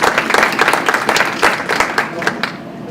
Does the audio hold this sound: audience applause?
yes